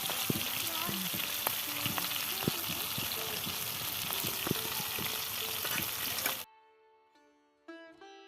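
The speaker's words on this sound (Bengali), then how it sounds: "ওদিকে মাসি রাত্রিবেলায় মাছ রান্না করছে, তো উঠোনে একটা উনুন কাটা আছে, তো উনুনের মধ্যে মাসি রান্না করছে" Fish frying at night over a clay stove set into a courtyard floor, with a steady dense sizzle and occasional stirring clicks for about six seconds before it cuts to near silence with faint tonal sounds.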